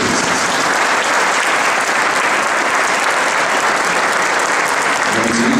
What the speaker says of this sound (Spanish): A ellos los saludamos con un aplauso.